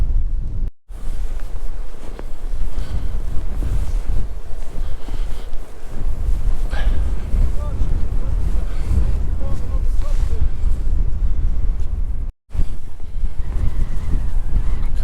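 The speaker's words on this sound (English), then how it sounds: "it's a cold wind up here" A cold, strong wind blows across a hilltop in Weardale, roaring steadily and buffeting the microphone as loud, continuous rumbling gusts, with only brief dropouts.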